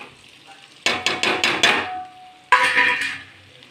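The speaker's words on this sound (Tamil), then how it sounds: "வதக்கி கொண்டு தக்காளியை நன்றாக வதக்கி கொள்ள வேண்டும்." Tomatoes get sautéed and stirred in a pan for vegetable kuska, heard as a run of five quick scraping, clattering strokes, a brief pause, then another sizzling burst of stirring, close and fairly loud with nobody speaking.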